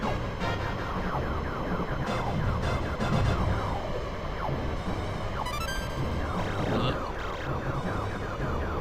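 In the Star Fox video game, the other R-Wing ship's engine gives a siren-like wail that sweeps up and down over a dense, busy layer of game noise and music.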